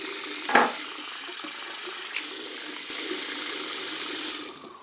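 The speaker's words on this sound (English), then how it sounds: "Let's rinse off." Running tap water splashes steadily at a sink as a face is rinsed after a wet shave with a single edge safety razor, opening with a brief clatter and fading out near the end; no talking.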